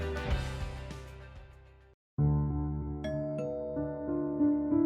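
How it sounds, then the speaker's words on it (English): A doorbell rings at a house, sounding a chiming two-tone ding-dong that fades and then rings again after a brief gap of silence. The tones are clear and resonant, with no voices. "he rang the bell until Cassandra came to open it."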